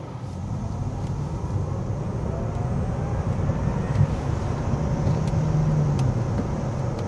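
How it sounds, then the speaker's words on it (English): From inside the cabin, a 2025 Tesla Model 3 accelerates hard, giving a steady, loud wash of road and drivetrain noise that builds slightly and holds without a break, with no voices. "there's a punch of the throttle there for a quick acceleration"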